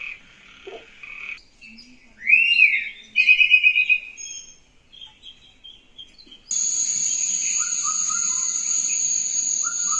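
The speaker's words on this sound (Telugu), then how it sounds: "కొంతమందికి బర్డ్ సౌండ్ అనేది బాగా నచ్చుతుంది" Birdsong from a speaker lamp: scattered chirps and warbling calls in the first seconds, then a steady, bright high-pitched chorus of birds or insects playing continuously to the end.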